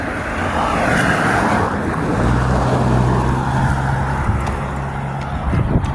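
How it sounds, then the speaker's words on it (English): Cars pass along a narrow road through a small country town, a continuous engine and tyre rumble with a low droning tone building in the middle, fairly close and steady throughout. "Two lots of cars coming here."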